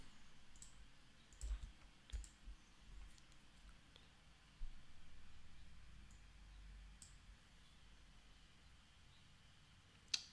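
Faint, scattered keyboard clicks and taps as a username and password are typed in for a login, sparse irregular keystrokes in a quiet room with no one talking.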